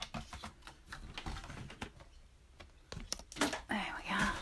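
Paper being trimmed to size for a handmade Christmas money envelope, a run of soft scraping and clicking cuts close by, with brief louder crisp strokes near the end.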